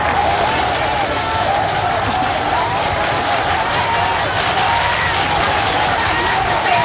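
Cabinet members and lawyers applaud Andrés Manuel López Obrador at the entrance of a government building, a steady wash of clapping mixed with crowd noise and street din that holds evenly throughout.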